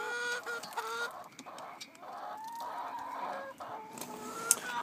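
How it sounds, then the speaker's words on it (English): Chickens cluck and murmur in a steady stream at a backyard coop. The sound is soft and somewhat distant, with a few sharper calls mixed in and no talking. "Ooh, we have an assassin chicken."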